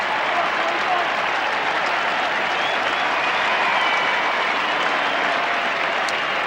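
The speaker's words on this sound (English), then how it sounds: "Justin Blumfield will get a very warm round of applause as he comes off for a spin." Warm applause from a big stadium crowd at the AFL Grand Final, Essendon versus Melbourne, as a player leaves the field, a loud, dense, continuous clapping roar throughout.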